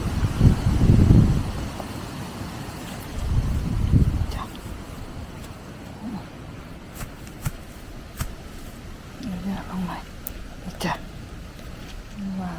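Strong wind blowing outdoors in Denmark, with two heavy low gusts buffeting the microphone early on, then settling into a softer rustling with scattered small knocks. Voices seem to be present.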